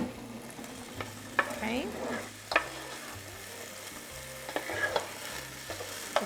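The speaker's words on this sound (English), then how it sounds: "we're just gonna throw that in there into the pan" Small diced potatoes fry in a pan for chorizo con papas, with a soft sizzle under repeated spoon stirs and scrapes at a steady rhythm; a voice speaks briefly.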